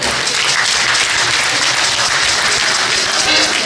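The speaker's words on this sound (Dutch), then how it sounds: "Hartelijk applaus voor hem." A dense, steady wash of audience applause fills a dialect singing gathering, rising for an accordion and trumpet player; loud, close and continuous throughout with no voices on top.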